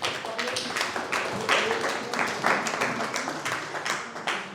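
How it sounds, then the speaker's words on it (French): Applause from a modest audience at a garden lecture, individual claps distinct and uneven, moderately close, with a few scattered sharp hits standing out. "On peut l'applaudir."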